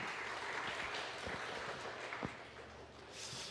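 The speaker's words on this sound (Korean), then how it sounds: "또 한번 환영하며 박수 한번 하겠습니다" A church congregation claps to welcome a visiting pastor and his wife at a Sunday service, a fairly faint, steady patter of applause filling the room with a few sharper claps standing out.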